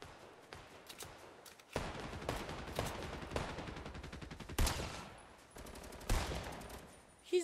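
Bursts of automatic gunfire and single shots crackle through a Fortnite match, rapid rattling volleys starting and stopping over about seven seconds, loud and close, with players talking over them.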